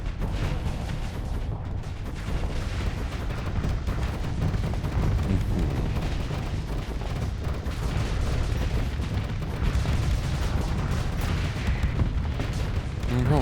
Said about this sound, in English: You almost got your ass reamed by my main cannon.